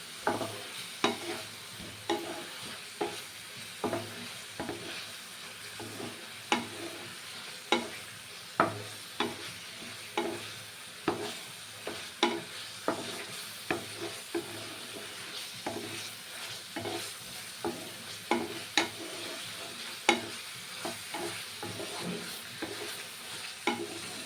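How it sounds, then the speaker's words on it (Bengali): Spice paste with turmeric and salt is stir-fried in a pan, with a regular rhythm of scraping spatula strokes, roughly one per second, over a continuous sizzle, close and without speech. "এবারে পুরো মশলাটা বেশ ভালো করে কষাতে হবে"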